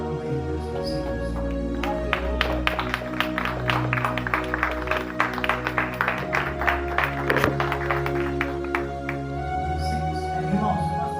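A church congregation applauds for several seconds over sustained, held musical tones, the claps forming a dense, moderately loud patter that fades near the end.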